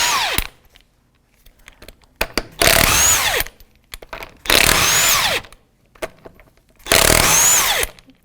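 A power tool with a 19mm socket spins off wheel studs on a 2001-2007 Volvo V70. It comes in three loud, close whirring bursts of about a second each, with clicks and quiet gaps between.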